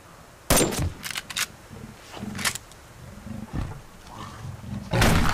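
A cougar in the Subsistence survival game lets out sharp roaring snarls, several loud bursts spread across the moment, mixed with what sounds like gunfire cracks, close and harsh with quieter ambience between.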